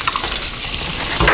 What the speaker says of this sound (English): While that bacon's sizzling up